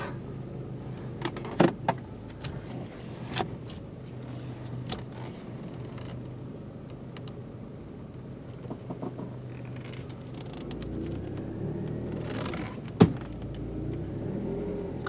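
A car creeps along slowly, its engine a low, steady hum inside the cabin, with occasional small knocks and creaks and one sharp thump near the end.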